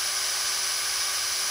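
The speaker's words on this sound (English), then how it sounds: "brushless hammer drill kit only" AEG brushless hammer drill running: a loud, steady high-pitched motor whine held for the whole stretch, close and continuous, with no talk.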